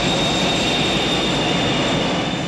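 Aircraft engines roar during a takeoff roll, a loud, continuous broadband rush with a steady high whine, close and unbroken, with no speech.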